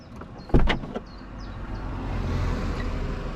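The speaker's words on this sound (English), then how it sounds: "Open your door." A car door opens during a learner driver's mock driving test, with a sharp latch clunk and thud followed by a steady low interior hum.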